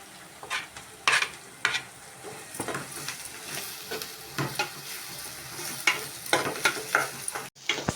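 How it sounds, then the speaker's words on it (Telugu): Onions and green chili pieces fry in a pan, giving a steady, close sizzle broken by frequent scraping and clinking stirring strokes, with no talk. "కొంచెం వేగాలి."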